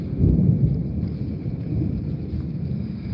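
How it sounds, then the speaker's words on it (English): Thunder rolls as a low, heavy rumble over rain on a night street in downtown Charleston, loudest in the first half second, then a steady lower roar. "Are y'all hearing that thunder?"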